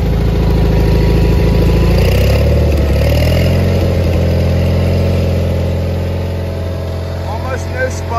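A John Deere 318 lawn tractor engine idles smoothly and steadily close by, a constant low putter that eases slightly toward the end.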